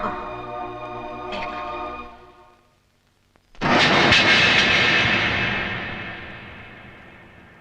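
A jet airliner's engines roar up abruptly after a brief near-silent pause, loud and broadband, then slowly fade as the aircraft departs; a fainter droning engine tone precedes the gap.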